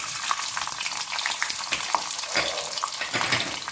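Garlic sautéing in hot oil with fenugreek seeds and curry leaves for an onion tamarind curry, a steady close crackling sizzle with occasional stirring scrapes and clinks throughout, no voices.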